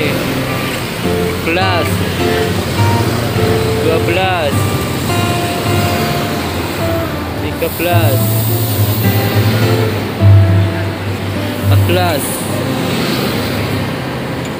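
Convoy of Budiman tour buses rolling past on a roadway, with a steady low engine rumble, repeated horn-like tones and passing swells, while a man keeps counting aloud over the traffic.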